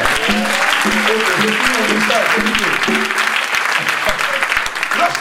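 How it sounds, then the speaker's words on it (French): Church congregation at a French-language service applauding and cheering, with dense steady clapping, a voice speaking or singing over it, and a few sharper claps cutting through. "Est-ce qu'on peut acclamer le Seigneur?"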